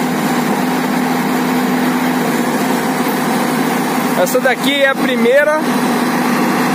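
A steady engine drone from an FH 200 tracked machine straining to climb a truck trailer ramp runs throughout, with a person speaking briefly near the end over the mechanical hum.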